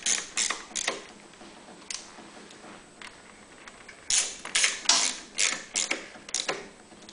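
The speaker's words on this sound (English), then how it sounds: "now take my wrench, go ahead and tighten down these bolts" Wrench ratcheting as bolts and nuts are tightened on the auto choke of a Honda EU3000iS generator, in short bursts of rapid clicking that come in several separate runs, close by and with no talk.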